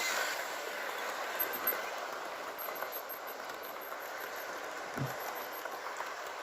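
A Hornby model passenger train with many coaches runs along a temporary layout, giving a steady, close whirring hiss of small wheels on track, with a faint click near the end.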